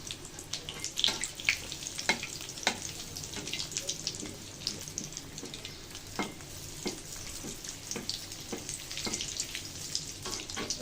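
Egg potato chops (dim chop) deep-frying in hot oil over medium heat: a steady close sizzle dotted with sharp crackles and pops, with no voices.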